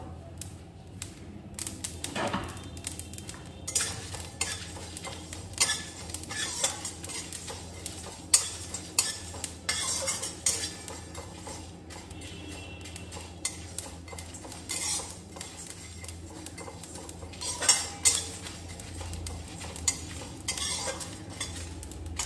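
Chillies fry in a pan for a mango-jaggery pickle, with a soft sizzle under repeated scraping and clinking of a stirring utensil against the pan, plus a few sharper knocks, all close and without talk.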